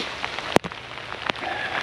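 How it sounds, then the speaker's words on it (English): Soft rain patters steadily on a hiker's rain jacket on a forest trail, a close, even hiss broken by two sharp rustling taps. "it's officially raining and it's getting colder"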